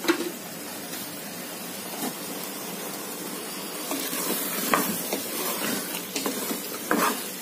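Sliced mushrooms and salt frying with tomatoes in a pan for mushroom biryani, a soft continuous sizzle with occasional stirring clatters, close and moderately loud, no voices.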